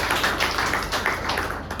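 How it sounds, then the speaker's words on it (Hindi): Audience clapping at a gathering, a dense, steady patter of many hands that carries evenly from start to finish with no voices rising above it. "कुणाल जी के लिए भी बहुत जोरदार तालियां"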